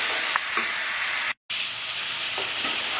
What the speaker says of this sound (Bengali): যতক্ষণ না তেলটা ছাড়বে ততক্ষণ আমি একটু কষতে থাকবো